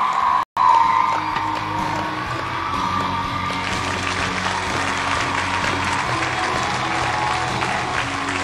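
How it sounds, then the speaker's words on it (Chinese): A television studio audience applauds and cheers to welcome a couple onto a talk show, a steady, full wall of clapping with scattered whoops after a brief cut at the start. "我们掌声有请李涛和张莹"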